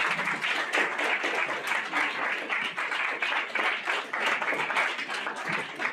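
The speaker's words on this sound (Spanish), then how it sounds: "Un aplauso grande para esto." A large audience applauds steadily for six seconds, dense overlapping claps at a constant loud level with no pauses, filling the room evenly from start to finish.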